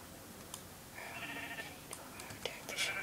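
Sheep in the Minecraft video game let out a few short, nasal bleats, some overlapping, heard faintly over quiet background noise.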